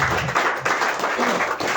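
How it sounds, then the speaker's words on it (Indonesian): A church congregation claps for God during a worship service, a dense, loud burst of many hands applauding together, close and sustained for the whole short stretch with slight swells. "Beri tepuk tangan buat Allah."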